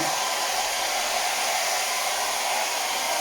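A hair dryer blows steadily and loudly at close range, drying wet paint on a cardinal painting, with a continuous even roar and no talking.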